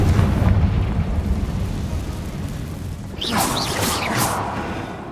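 A Confringo fire spell in Hogwarts Legacy lands with a heavy, rumbling explosion that rolls on for a few seconds. Bright crackling, whooshing bursts of magic follow partway through.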